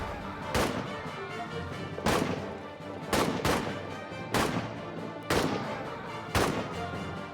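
Heavy gunfire and a thrown grenade's blast in a trench warfare battle against French soldiers, with loud broadband explosions and shots bursting about every second over a constant rumbling din of distant battle.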